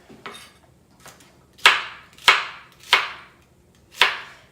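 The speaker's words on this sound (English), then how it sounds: "First, I take the baby okras after they've been washed and cut them" A knife cuts through washed baby okra on a board, six crisp chops in a loose, steady rhythm, close and clear with no talk.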